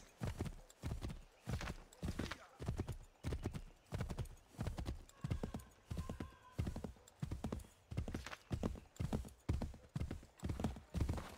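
Hooves of a galloping horse in Assassin's Creed III, a brisk, even clip-clop rhythm that repeats about once a second, close and clear, with a short whinny in the middle.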